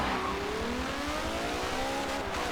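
A Ferrari 599 races in an S-Class event of a racing game: the engine revs up through the gears with rising, sweeping tones, loud and close and steady, with no voices.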